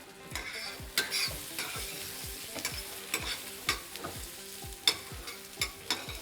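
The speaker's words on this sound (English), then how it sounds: "Do you want me to stir these nuts a little bit?" Nuts sizzle in a hot pan on the stove as a spoon stirs them in steady repeated strokes, with crisp scraping and frying crackle and no talking.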